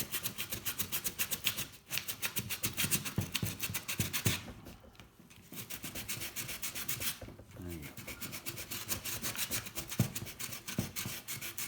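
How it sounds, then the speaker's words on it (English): Close, rhythmic rubbing strokes of sanding on a small bicycle part, repeated back and forth with a couple of brief pauses. "Sanding is much harder to get any material off on a little smallish part"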